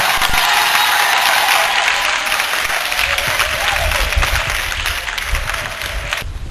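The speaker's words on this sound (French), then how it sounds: "Mademoiselle Oumina mérite des applaudissements." A crowd applauds loudly and steadily, dense clapping that holds for several seconds before cutting off sharply near the end.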